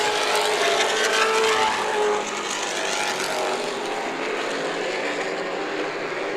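Late model race cars at Irwindale Speedway, a dense continuous engine roar with overlapping buzzing exhaust notes from a pack passing, loud and sustained, easing slightly partway through.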